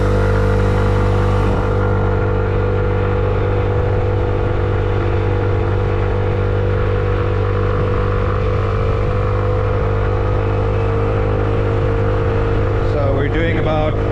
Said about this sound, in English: test the acceleration up the hill for you a bit, and then we'll find an even steeper hill just now. Full throttle.